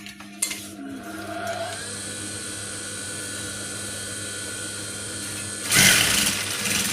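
A sewing machine runs in one long steady whir while stitching a cap and its lining from the center, preceded by a brief click and ending in a louder burst of rattling motor noise.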